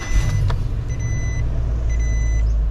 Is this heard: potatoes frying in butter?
no